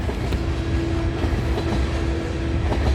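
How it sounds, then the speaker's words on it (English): CN M382 freight train rolls past trackside at night, a loud continuous rumble with steady wheel noise and a faint squeal, close and unbroken. "symbol on this train is CN M382"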